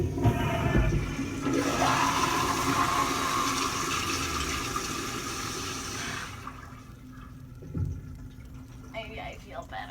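A toilet flushes up close with a loud, rushing swirl of water that lasts several seconds and then fades into a quieter refill trickle, with a voice talking near the end.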